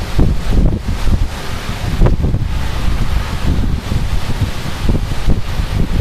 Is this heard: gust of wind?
yes